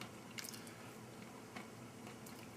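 Dry, crunchy crackers from a Gulf War-era MRE, Menu 17 beef with teriyaki sauce and vegetables, being bitten and chewed up close, with a steady run of quiet crunches and a few sharper bites standing out.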